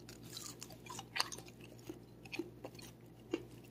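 Crispy cooked pork belly is chewed close to the mouth, with soft wet mastication and a few sharp crunches over a low steady background hum, quiet overall.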